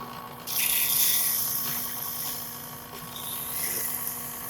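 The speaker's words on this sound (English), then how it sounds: "what I'm going to do now is just sand this, and I'm going to bevel the edge" An aluminum whistle is sanded on a lathe, with its edge being bevelled, giving a steady hissing, rubbing scrape over a constant motor hum. The sound is fairly close and continuous for several seconds, with no voices.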